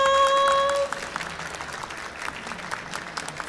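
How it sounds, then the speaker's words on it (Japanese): Applause from a seated audience at an Expo 2025 special talk in Osaka, greeting a professor from the Institute for Molecular Science, with many hands clapping steadily at moderate distance after a brief tone at the start. "拍手お願いします"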